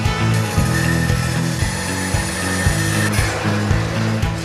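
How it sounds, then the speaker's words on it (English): A bandsaw cuts wood for a handmade guitar in a luthier's workshop, giving a steady close mechanical whir with a rhythmic pulsing drone and no speech. "We're gonna go to the bandsaw."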